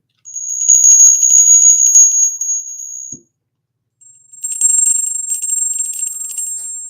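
A small hand bell with a handle rings loudly and up close in two bright bursts of continuous jingling, separated by a short pause of silence.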